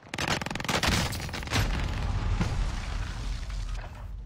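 Rapid bursts of video game gunfire, dense automatic shots and booming impacts crowding the opening seconds, then a continuous rumble of distant firing and explosions that stays loud to the end.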